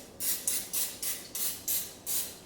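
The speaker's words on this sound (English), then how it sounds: "Spray a little bit." Seven short, hissing bursts from a cooking spray can onto a pan in a quick, regular rhythm, each spurt close and crisp.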